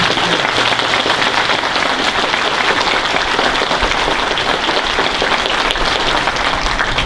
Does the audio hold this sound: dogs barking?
no